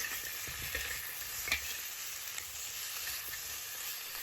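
Pork ribs being stir-fried in a wok with star anise, ginger and scallion, a steady soft sizzle under occasional quiet scrapes of the spatula, with no voices.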